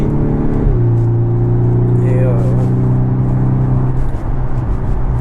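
A Volkswagen Golf 6R accelerates, recorded from inside: a loud, steady engine drone rises in pitch as speed builds, with a voice talking over it partway through.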